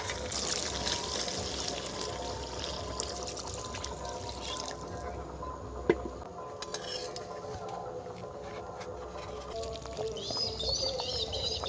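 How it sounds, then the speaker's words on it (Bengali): Water is poured steadily into a pan of village-style rooster curry, a soft continuous trickle and splash heard faintly, with birds chirping in the background and a brief clink midway. "এবারে জল ঢেলে দেবো।"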